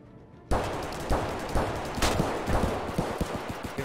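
Gunfire in the shooter game Escape from Tarkov: a loud burst after brief quiet, then repeated shots and rapid automatic volleys ringing out for several seconds, ending in a fast string of sharp cracks.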